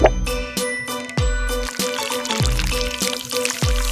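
Liquid is poured into the bubbles of a pop-it fidget toy, giving a series of splashing, tinkling pours with bright ringing accents that repeat in quick succession, close and fairly loud.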